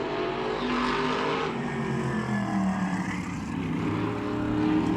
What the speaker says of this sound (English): Can hear him hitting those brakes as he comes into 3 and 4.